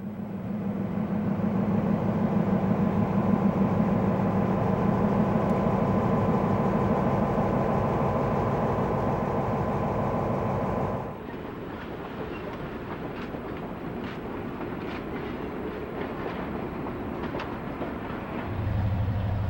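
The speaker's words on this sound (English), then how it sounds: "The station switcher is moving cars off B&O train number 58" A B&O station switcher locomotive shifts cars off the Night Express, a steady loud rumble of rolling stock and engine with rhythmic clickety-clack of wheels over rail joints, the tone changing partway as the cars keep moving.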